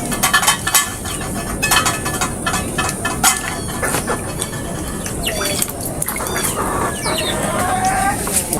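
Chickens cluck and squawk close by in a busy mix of short calls and rustling, with a rooster-like cry and scattered fowl noises over a steady background.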